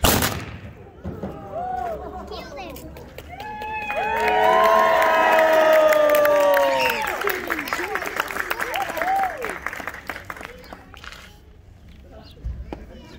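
A crowd at an O.K. Corral gunfight reenactment cheers, whoops and applauds in a swelling roar that peaks and then fades, with scattered shouts and voices mixed in.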